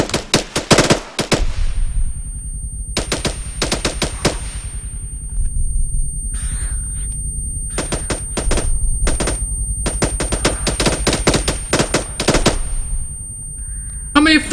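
Gunfire in the video game roleplay server New Eden RP comes as loud, close clusters of rapid shots separated by gaps, with sharp irregular bursts over roughly fifteen seconds and a voice speaking in places.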